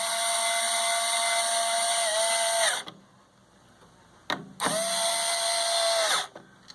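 A power drill drives screws to fit a 17-inch monitor onto its mount, heard as two loud, close, steady whining runs of about three and two seconds with a brief gap between them.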